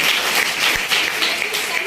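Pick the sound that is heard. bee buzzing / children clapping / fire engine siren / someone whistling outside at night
children clapping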